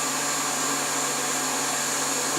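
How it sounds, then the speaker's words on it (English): A vacuum pump runs continuously, drawing vacuum on a resin mould bag, giving a steady, fairly loud mechanical drone with a constant hum and no breaks. "I'll switch off the valve from the pump so it's no longer drawing any vacuum from there."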